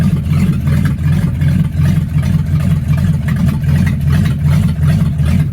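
A 1962 Mercury Comet with a freshly rebuilt C4 automatic transmission drives along, its engine droning loud and steady with a low rumbling throb and no speech.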